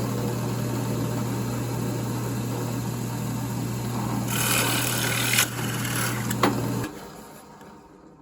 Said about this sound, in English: Now we'll take it to the drill press and we'll drill another 3/4 inch hole